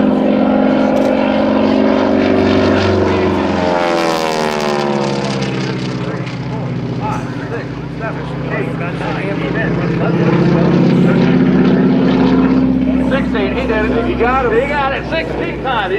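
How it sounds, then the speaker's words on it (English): A T-6 propeller airplane performs a 16-point roll at an airshow, its radial engine droning loudly with a rising and falling pitch as it maneuvers, while an announcer talks continuously over it. "He's the only man I know that does a 16-point roll with a T-6 aircraft."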